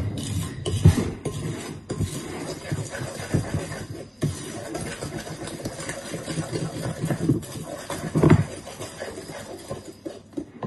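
A spoon scrapes and knocks against a bowl while beating margarine and sugar for a Victoria sponge, with irregular clattering taps and scraping strokes, fairly close and steady, a couple of louder clinks standing out.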